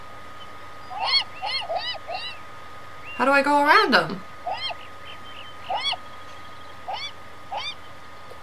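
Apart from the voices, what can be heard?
seagulls flocking around bread in the video game Beyond Eyes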